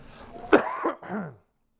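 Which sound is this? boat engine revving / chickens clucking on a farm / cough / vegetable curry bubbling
cough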